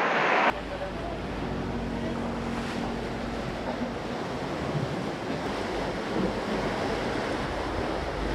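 Surf and wind at a hidden beach in El Nido, Palawan: a steady, loud wash of breaking waves with blustery wind noise buffeting the microphone, continuous throughout after a brief quieter opening.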